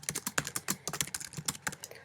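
Fingers type quickly on a computer keyboard, giving a steady run of light, close clicks with small uneven gaps and no talk.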